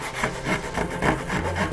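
Hand saw strokes cutting the stop dado line into wood for a slant-front desk lid, a steady run of close rasping back-and-forth strokes with no voices.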